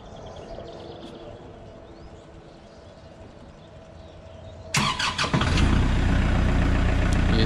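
A Kubota L4060 Limited Edition tractor sits quiet against faint outdoor background. Then its engine cranks and catches abruptly, roaring into a loud, steady run for the final few seconds.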